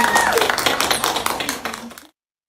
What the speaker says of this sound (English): One more time, let's give her a big round of applause.